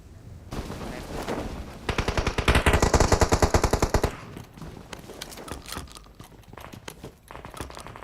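Shotgun fire in a video game rings out as a loud, rapid string of closely spaced shots lasting about two seconds, followed by scattered fainter reports.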